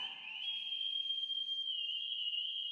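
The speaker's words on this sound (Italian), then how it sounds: "I rocciosi sanno comunicare fischiando." A steady, sustained high whistle carries a message across the desert in an animated cartoon, holding one even tone for nearly three seconds at moderate, distant loudness.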